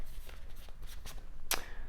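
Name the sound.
shuffling tarot cards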